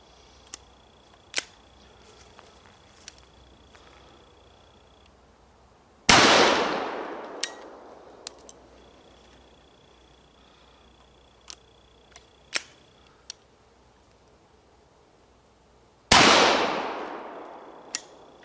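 Two loud, sharp gunshots from a Meligun AOW firearm fired outdoors, each a sudden crack with a trailing decay and spaced about ten seconds apart, with faint clicks and small handling noises in between.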